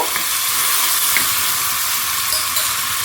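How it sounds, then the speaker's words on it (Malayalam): Washed whole black peppercorns drop into hot oil in a pan and set off a loud, steady sizzle that stays constant throughout, close up with no voices. "ഇനി ഇതിലേക്ക് ഞാൻ കുരുമുളക് കഴുകിയതാണ് ഷീ പറഞ്ഞ ശബ്ദം ഉണ്ടാവും കേട്ടോ"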